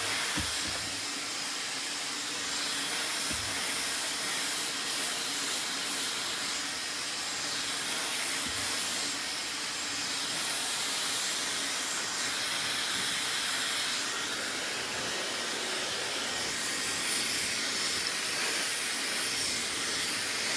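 A hair blow dryer runs steadily during a layered bangs haircut and styling, a loud constant airy whoosh with no pauses throughout.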